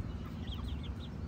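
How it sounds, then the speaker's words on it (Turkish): Chickens in a coop, with a rooster among them, give faint, soft clucks over a low background hum. "Bak bu horoz."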